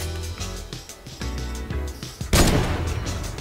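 A single loud, sharp gunshot bursts out in the Fortnite video game, ringing close over steady background game sounds.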